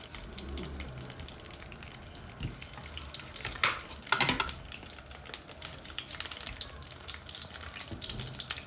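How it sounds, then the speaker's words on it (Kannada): Brinjal pieces dropped into hot oil to fry, giving a faint, low sizzle with a few soft clatters and a brief louder burst midway. "ಎಣ್ಣೆ ಬಿಸಿ ಆಗಿದೆ ಎಣ್ಣೆನಲ್ಲಿ ಬದನೆಕಾಯಿನ ಬಿಡುವ"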